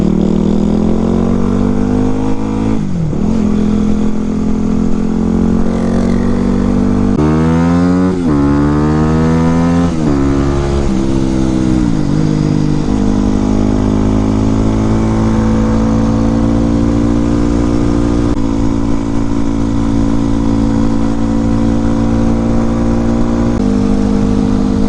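A Yamaha motorcycle pulls hard from a standstill toward 70 mph, its engine revving loudly and climbing in pitch through several gear changes, then holding a sustained drone at speed.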